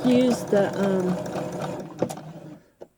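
A home sewing machine runs at its middle speed setting, stitching fabric snippets at a diagonal; a steady whirring hum plays close up, with a soft voice-like tone early on and a few clicks near the end.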